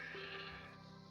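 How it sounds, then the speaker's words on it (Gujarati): A goat in a video game gives a single short, faint bleat, a thin wavering cry lasting about a second. "અમારે ગુજરાતમાં એને બકરી કહેવાય"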